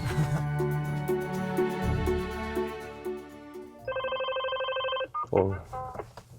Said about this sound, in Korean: 전화가 막 오네.